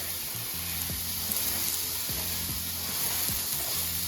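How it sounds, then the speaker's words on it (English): Beef browning in a pot for one-pot beef stroganoff, a steady close hissing sizzle throughout with a few soft stirring scrapes underneath. "we have our meat browning over here"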